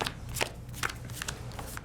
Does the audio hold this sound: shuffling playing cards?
yes